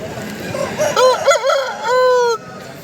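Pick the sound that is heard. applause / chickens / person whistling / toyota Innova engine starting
chickens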